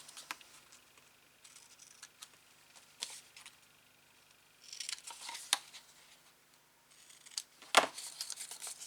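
Paper strips are trimmed at an angle with scissors for a Harry Potter pop-up album page, giving a few faint, separate snips and soft paper rustles with pauses between, one sharper cut near the end.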